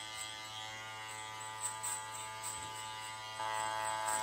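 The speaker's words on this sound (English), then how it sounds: "you can hear that hair being cut" Steady, close electric buzz of hair clippers fitted with a wide fat blade cutting hair, a constant hum with faint crisp snipping ticks on top that grows slightly louder toward the end.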